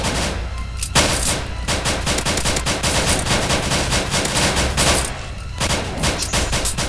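Rapid, dense gunfire fills the whole stretch as players shoot monsters in the Roblox game Seeking the Light, with bursts of near-continuous automatic shots and brief lulls between volleys, loud and close.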